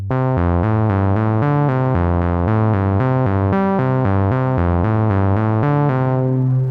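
A bright modular synthesizer sequence of steady repeating notes plays in a fixed rhythm, each step panned to alternate left and right channels, loud and continuous with no voices.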